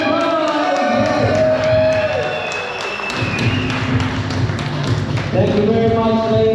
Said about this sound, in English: Fellas, a round of applause.